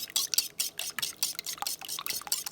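A utensil stirs beaten eggs in a bowl while making pandesal dough, giving quick, rhythmic scraping and sloshing strokes, close and fairly faint, about a dozen in a row.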